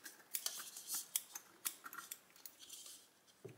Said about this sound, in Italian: effettivamente con le dita no, quindi proviamoci con le forbici